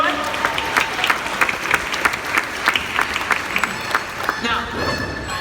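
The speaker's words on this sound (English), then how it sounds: "Let's give Arno a big round of applause, everyone" Audience clapping at a dolphin show in Chicago, a dense, steady ovation of many hands that stays loud throughout, with some crowd noise mixed in.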